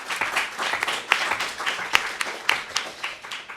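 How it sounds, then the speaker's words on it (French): Audience applause fills a conference hall at a general assembly on corporate social responsibility for local governments. Dense clapping with sharp individual claps is heard close and steady for a few seconds, with no talking over it. "On peut l'applaudir."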